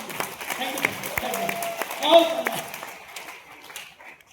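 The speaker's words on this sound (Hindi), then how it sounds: "और एक बार गुरु जी के लिए ताली बजाइए" Audience at a motivational seminar claps sparsely for a guru, a few irregular claps under a voice that fade toward the end.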